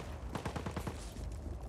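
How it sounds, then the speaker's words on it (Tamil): Rapid automatic gunfire in the Just Cause 4 video game, a quick burst of about ten closely spaced shots followed by a noisy, rumbling tail. "இப்போ சுடுறா பார்ப்போம்."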